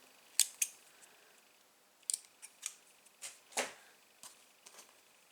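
Scissors snipping off small ends in a papercraft project, a handful of crisp, close snips spaced irregularly over a quiet background.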